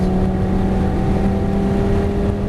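A Lamborghini Gallardo engine on the Nogaro race track holds a loud, close, steady droning growl with strong harmonics that barely changes in pitch across the stretch.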